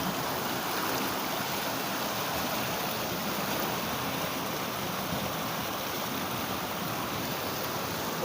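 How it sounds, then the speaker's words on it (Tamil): Rainwater rushes steadily in a stream, a constant broadband gush with no breaks and no voices. "மழை பெய்யுதுன்னா தண்ணி ஓவராக எவ்வளோ போகுதுன்னு பார்த்தீங்களா"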